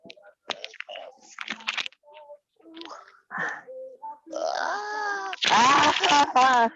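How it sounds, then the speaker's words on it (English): Bird calls ring out close and clear outdoors, a series of short chirps building into louder, longer warbling phrases toward the end. "there's the bird finally"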